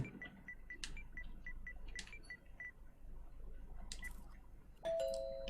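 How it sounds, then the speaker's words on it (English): A recorded doorbell playing a series of short bright chime tones, repeated several times over a quiet hiss background, with a sustained electronic tone near the end. "because I know Keld recorded his doorbell"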